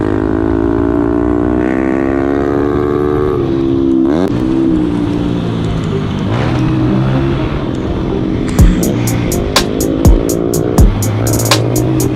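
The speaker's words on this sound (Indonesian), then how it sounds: "Oke, kita lanjut, kita gaspol lagi." A trail motorcycle revs hard at full throttle on an off-road track in Aceh, a loud steady engine drone with rising pitch and sharp gear-shift bursts near the end.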